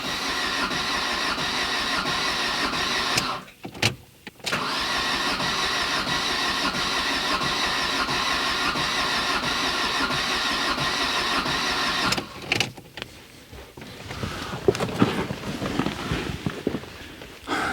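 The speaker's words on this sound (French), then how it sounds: "C'est dur à amorcer un diesel." A used diesel engine is hard to start and cranks in long, steady whirring runs broken by short pauses. The cranking is loud and close, and clattering mechanical noises follow near the end.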